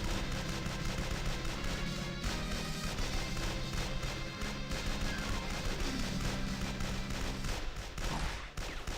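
Shotgun blasts and other gunfire crackle in a StarCraft match, layered over dense game music and effects, with a steady loud wash of battle noise throughout.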